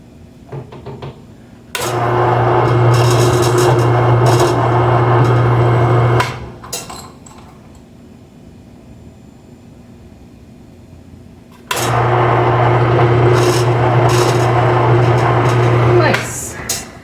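Power tool deburring a metal part for a cheap bicycle dynamo light, two loud sustained bursts of grinding with a steady hum, separated by a quieter pause with faint background sound.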